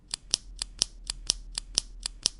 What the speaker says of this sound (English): clicking his pen in a steady rhythm